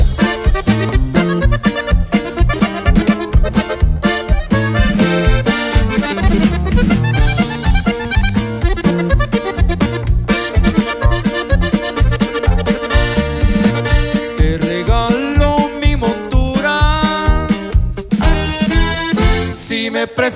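A full band arrangement with steady bouncing rhythm, bass and bright melodic lines, loud and continuous throughout with no talking.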